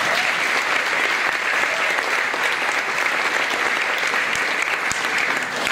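Steady, loud applause from an audience at an elementary school Christmas concert, a dense continuous wash of many hands clapping throughout with no break.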